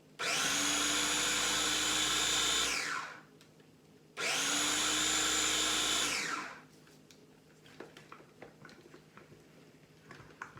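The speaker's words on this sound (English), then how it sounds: "that's all it needs really, is just a few pulses with the processor" Food processor pulsing quiche crust ingredients: two loud whirring bursts of about three seconds each, separated by a short pause, then light clatter and handling noises.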